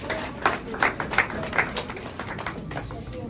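An audience at the first UMOJA OF AFRICA community event claps for a man called to the front, several sharp bursts of applause that thin into scattered claps under a light room murmur.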